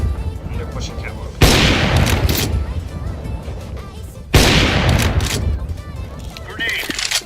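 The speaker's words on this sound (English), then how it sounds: "Grenade." Two heavy booming blasts in a first-person shooter video game, most likely grenade explosions. They are loud and close, about three seconds apart, and each has a long rumbling tail. Faint voices run underneath.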